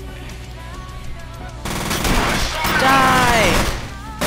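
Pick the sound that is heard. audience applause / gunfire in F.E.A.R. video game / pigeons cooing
gunfire in F.E.A.R. video game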